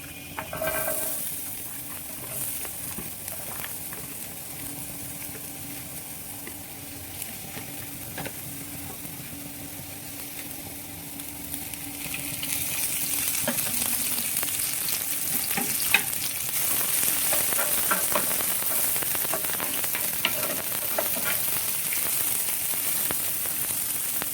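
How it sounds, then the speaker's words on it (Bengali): Onions and garlic fry in a pan with a continuous crackling sizzle and occasional stirring scrapes. The sizzle grows noticeably louder and brighter about halfway through and stays there without pause. "আমি এখন পেঁয়াজগুলো ভেজে ফেলবো সাথে আমি রসুনগুলো ভেজে দিচ্ছি"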